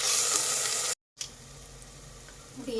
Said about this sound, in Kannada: 1 ಸ್ಪೂನು ನಾನಿಲ್ಲಿ ಹಸಿ ಶುಂಠಿ ಬೆಳ್ಳುಳ್ಳಿ ಪೇಸ್ಟನ್ನು ಹಾಕಿದ್ದೀನಿ. ಇದನ್ನು ಚೆನ್ನಾಗಿ ಫ್ರೈ ಮಾಡ್ಕೋಬೇಕು